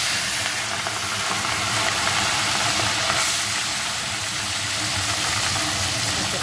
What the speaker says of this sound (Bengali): তো আমি এখন মাছগুলো চলে ভেজে দিই। তেলটাও গরম হয়ে গেছে।